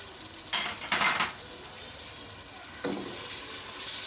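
Chicken with spices, tomatoes and green chilies fries in a pan, a soft steady sizzle broken by a few close clatters and scrapes of stirring near the start and again later, with no talking.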